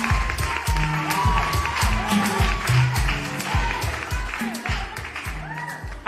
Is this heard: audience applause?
yes